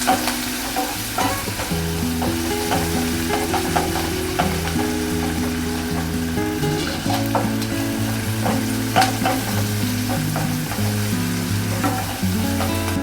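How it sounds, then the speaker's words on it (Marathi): Onion and spice mixture for misal pav sautéing in a pan, with steady close sizzling and frying plus intermittent stirring clatter, no voices throughout. "हे सगळं मिश्रण चांगलं परतून घ्यायचं आहे।"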